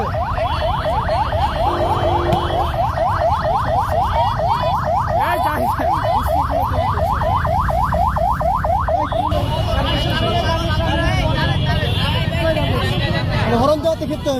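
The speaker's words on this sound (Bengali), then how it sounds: "হরণ বাজাচ্ছে" A car alarm-style siren on a busy street, rapid repeating rising whoops for several seconds, loud and close over crowd babble and traffic, then a steadier tone with voices talking over it.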